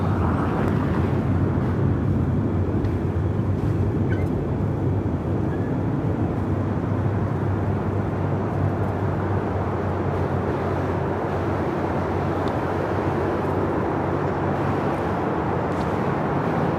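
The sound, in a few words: Frontier Airlines A320neo jet taking off at LAX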